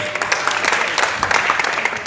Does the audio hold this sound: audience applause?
yes